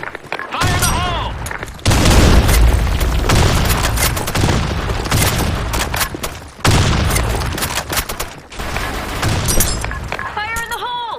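Grenade blasts in a first-person shooter game: two heavy, booming explosions land a few seconds apart amid a constant clatter of gunfire, with voices shouting over the chaos.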